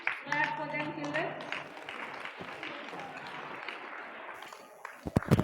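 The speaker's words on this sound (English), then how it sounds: "Clap for them, children" Schoolchildren clap for medal winners at a Republic Day prize ceremony, a sustained wash of many small hands at moderate distance, with a voice over the start and sharp louder claps near the end.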